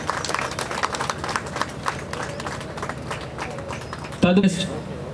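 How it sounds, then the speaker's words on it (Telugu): A crowd at an Ambedkar Jayanthi celebration in a Mandamarri school hall claps steadily, the applause running beneath someone speaking loudly over a microphone. "గట్టిగా అందరూ చప్పట్లు కొట్టాలి."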